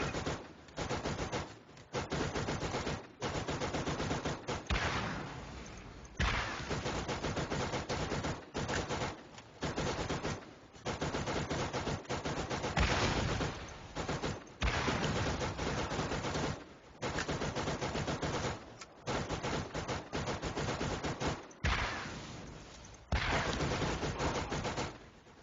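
Sustained automatic machine-gun fire from a turret in the video game Borderlands, loud near bursts running almost continuously with brief gaps between volleys.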